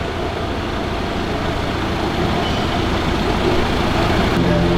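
Vehicle inspection rig testing the rear right suspension, giving off a steady, dense mechanical rumble with a low engine-like hum throughout, close and unbroken.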